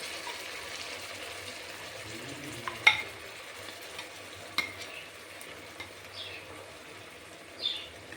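Date paste payasam fries in ghee in a pan for Onam while being stirred, giving a faint, steady sizzle with a few sharp scrapes and clinks scattered through it.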